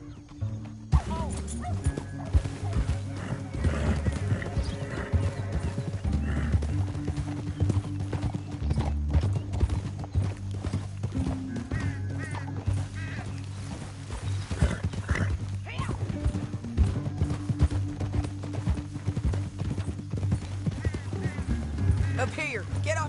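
Horse hooves in the video game Red Dead Redemption 2 clatter in a fast galloping rhythm, continuous and busy, with occasional whinnies and faint voices mixed in.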